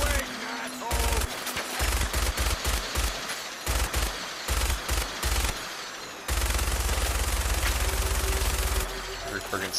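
Soldiers' gunfire in Fallout 4, with loud rapid automatic bursts in short repeated volleys, followed by a long sustained stretch of continuous firing near the end.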